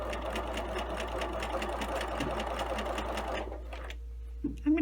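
A sewing machine stitching a shirt placket with a short stitch length runs in a fast, even rhythm over a low hum, then stops near the end, followed by a few small clicks.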